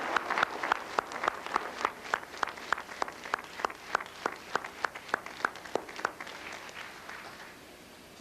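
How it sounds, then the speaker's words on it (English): An audience at a 1995 college graduation ceremony applauds with steady, dense clapping and a few sharper claps standing out, slowly thinning toward the end. "These people also deserve a round of applause."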